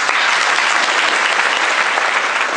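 An audience at a weekly seminar applauds in a dense, loud, steady wash of clapping that fills the whole moment, with no speech over it.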